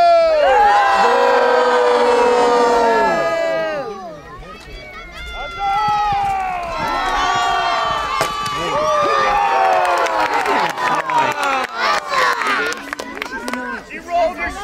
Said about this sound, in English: Cheer your champion!